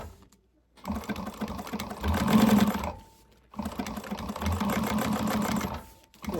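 A sewing machine back stitching and top stitching a fabric bag with black bobbin thread runs in two steady whirring bursts separated by a short pause, close and loud with no talk.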